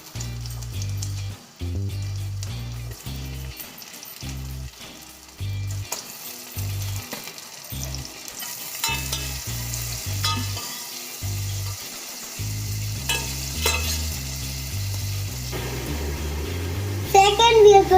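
Onion and chilies fry in melted butter in a pan for vegetable Maggi noodles, with a close, steady sizzle and occasional stirring. Someone talks over the sound, and there is a hum of background music.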